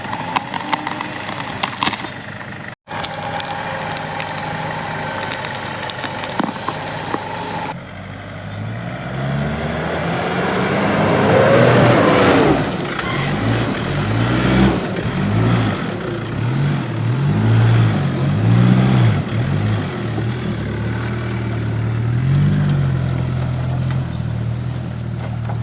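A 4WD engine on a bush track revs hard as the vehicle drives out after being dug in, a steady loud drone with rising and falling revs over several seconds, with no talking.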